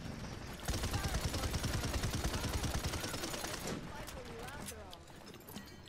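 Rapid automatic gunfire rattles in the video game Paladins, dense repeated shots lasting a few seconds and then fading into scattered bursts, with people talking over it.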